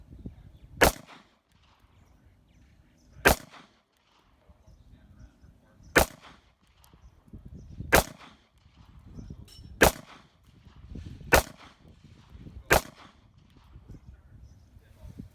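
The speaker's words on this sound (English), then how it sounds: "14 shots with the M&P Shield 45, and that's a pretty good group size" Seven sharp, loud pistol shots from a Smith & Wesson M&P Shield 45 at a shooting range, fired one at a time about two seconds apart, each a crisp crack standing out over quiet background.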